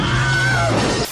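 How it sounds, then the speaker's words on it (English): The Wilhelm scream, the classic film stock sound effect: a single loud male yell lasting about a second and cutting off sharply. "Yes, that was the Wilhelm scream, one of the many cliches covered here."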